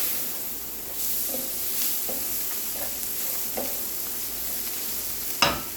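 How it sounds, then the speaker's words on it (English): Hatch green chile sauce sizzling in a pan, a steady quiet frying hiss with occasional scraping stirs and a brief louder clatter near the end, no voices. "We're going to let this cook for a little bit. Stir that together."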